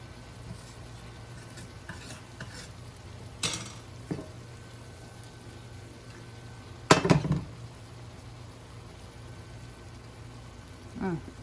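A steak and egg breakfast bake being mixed in a skillet, with occasional utensil scrapes and clinks against the pan over faint sizzling, separated by quiet gaps.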